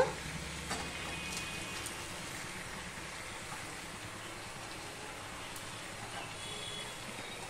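Washed, chopped spinach hitting a pan with turmeric gives a steady, dense sizzle that holds at an even level throughout, with faint stirring clatter underneath.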